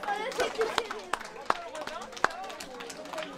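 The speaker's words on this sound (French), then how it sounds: "on les applaudit très fort, bravo!" Applause for the orange team at a village team event, scattered sharp claps and a few louder slaps over excited crowd chatter and voices, fairly quiet and uneven.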